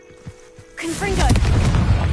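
A Confringo explosive spell blast from Hogwarts Legacy erupts after a few soft knocks, a loud booming burst with crackling, rumbling tail that swells and holds to the end.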